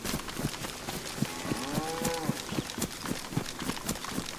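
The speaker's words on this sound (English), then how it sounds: "I can hear them. Cow's going absolutely crazy." A cow mooing in the DayZ video game, one drawn-out low moo over busy background clatter, close by.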